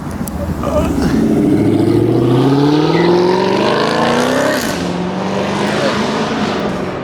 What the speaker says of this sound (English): I have a supercharger on that charger.